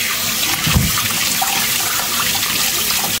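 Water runs steadily from a kitchen tap while large zucchini are washed, a close, continuous splashing rush with a brief knock near the start and no talking.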